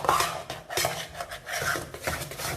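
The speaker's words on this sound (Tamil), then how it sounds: "இது நல்லா கை விடாமல் மட்டும் கிளறிக்கிட்டே இருக்கணும்" A spoon stirs and scrapes nonstop around a pan of thickening coconut milk sweet, giving close, rhythmic metallic scraping with clinks against the pan, and no talk.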